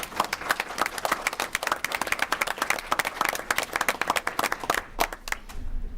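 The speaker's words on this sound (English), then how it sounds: "give them a round of applause" A roomful of girls at a school board meeting gives a round of applause. The clapping is brisk and dense for several seconds, then tapers off at the end.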